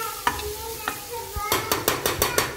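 Garlic paste for pav bhaji cooks in a pan, a soft sizzle under a few scrapes, then a quick run of rhythmic stirring strokes against the metal near the end.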